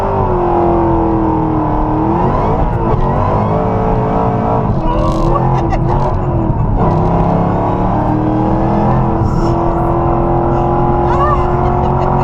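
A Shelby car's engine roars and revs hard as it accelerates, a loud, close, sustained drone with rising pitch shifts, heard from inside the car with voices faintly underneath.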